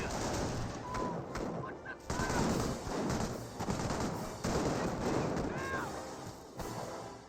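Gunfire rolls in dense crackling volleys at Volks Grenadiers in Company of Heroes, mixed with distant heavy booms under a continuous battle din, fairly faint overall with no clear talking.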